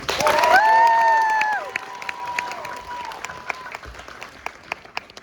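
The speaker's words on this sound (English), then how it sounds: "Let's give a round of applause for everybody who read so far." An audience at a back-to-school reading event claps loudly, and a few cheers and voices rise over the applause at first. The clapping then thins to scattered claps and fades.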